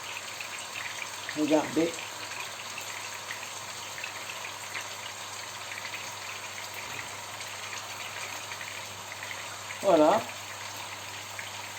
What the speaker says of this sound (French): Je les installe tous dans la poêle d'huile chaude.